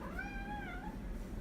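A cat lets out one drawn-out meow, fairly clear and close, with no other sound around it.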